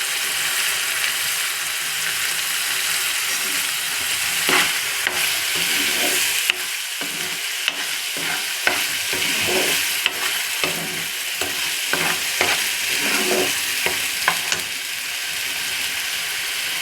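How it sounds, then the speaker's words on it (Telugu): Ground onion paste fries in a little oil in a pan, a constant sizzle broken by repeated scraping and clattering stirs of a utensil, close and loud, with no talking. "ఇప్పుడు ఇదే పాన్లో మళ్ళీ కొద్దిగా ఆయిల్ పోసుకుని గ్రైండ్ చేసి పెట్టుకున్నటువంటి ఈ ఆనియన్ పేస్ట్ని వేసుకుందాం"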